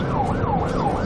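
Police car siren wailing in a continuous rising and falling cycle, loud and close, over the rumble of road traffic during a nighttime high-speed pursuit.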